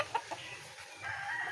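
A rooster crows in a short, faint burst, somewhat distant, amid light background noise with no talking.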